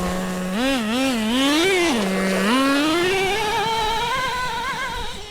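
A nitro Rustler RC car engine screams nearby, its high buzzing pitch rising and falling in quick revs, then climbing into a steady sustained whine.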